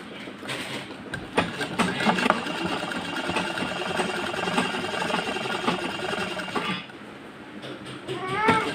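A sewing machine runs steadily for about five seconds, stitching the second seam of a blouse, with a few uneven bursts. It then stops, followed by a brief, different high sound near the end.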